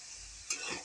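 Spices with crushed chili, garlic, ginger and tomato paste frying in a pan, a steady sizzle with a brief stirring scrape partway through, close and continuous.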